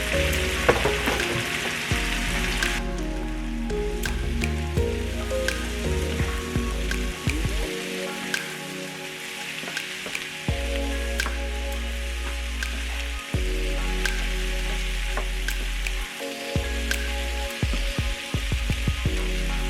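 Green peppers sizzle in a frying pan with potatoes and onions, a steady crackling hiss with scattered pops and occasional stirring clicks, close and continuous.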